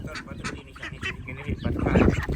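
Ducks quack in a few short, moderately close calls, the loudest toward the end, while a person talks over them.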